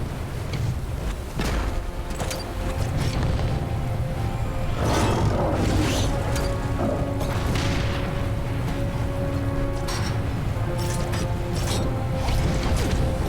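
Grenade blasts in the 2009 video game Bionic Commando come through as several heavy booms and crashes, with the loudest burst near the middle, over a dense, continuous mechanical game din.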